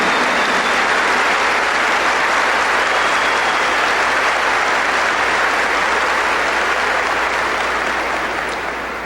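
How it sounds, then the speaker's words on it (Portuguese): A church congregation claps loudly and continuously for the Lord during a sermon, a dense, even wash of applause that fades slightly at the very end. "Give the Lord a big clap."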